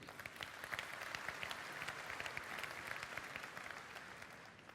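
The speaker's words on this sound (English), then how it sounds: "Big round of applause for your loyalty" Conference audience at a large tech general session breaking into applause, a dense even wash of many hands clapping, distant and steady throughout, with no talk.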